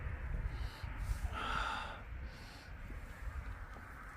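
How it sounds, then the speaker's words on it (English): A person sniffing outdoors beside a busy road, several short nasal inhalations that rise clearly above low, steady traffic rumble. "that's enough of the sniffing"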